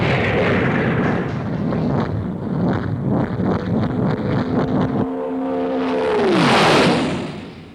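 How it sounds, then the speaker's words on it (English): Rocket engines firing in the Terrahawks puppet TV series, a loud roaring rumble with rhythmic pulsing, then a falling whine as the roar swells and fades away. "Zero, fire rocket engines."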